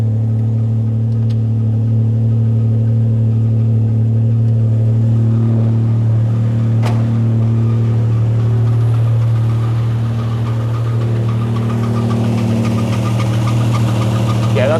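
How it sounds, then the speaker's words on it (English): A car that has sat unused for a long time idles steadily and loudly after being started, with a constant drone and a faint whine of belt noise over the engine hum, and no talking. "That's just belt noise."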